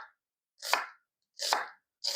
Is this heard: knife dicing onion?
yes